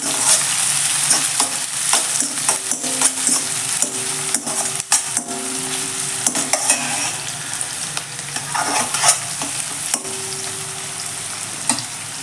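Onions sautéing in a pan for a mushroom gravy: a constant close sizzle broken by repeated scraping strokes and sharp clicks of a spatula against the pan, with no talking.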